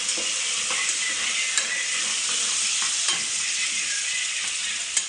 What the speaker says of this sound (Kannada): ಗೋಲ್ಡನ್ ಬ್ರೌನ್ ಆಗೋವರೆಗೂ ಫ್ರೈ ಮಾಡ್ಕೊಳ್ಳಿ.